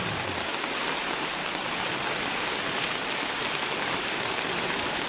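Steady rain pours down in a dense, even hiss that stays loud and unbroken throughout, with no voices or other sounds standing out.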